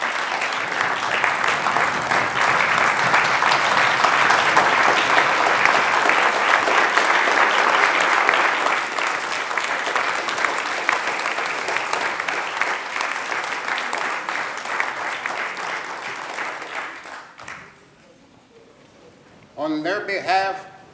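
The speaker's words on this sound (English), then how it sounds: "give those who just spoke before you a round of applause and stand when you do it" Large standing audience at an evening reading event applauds in a loud, dense wave of clapping that holds steady for about seventeen seconds, then fades out before a short burst of voices at the end.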